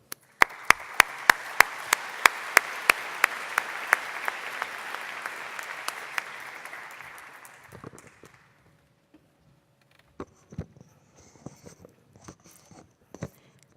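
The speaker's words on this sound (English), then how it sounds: "please welcome them with a round of applause" A conference audience applauds the program chairs in a dense, steady round of clapping with a few sharp nearby claps. It tapers off after about eight seconds, leaving scattered taps and small room noises.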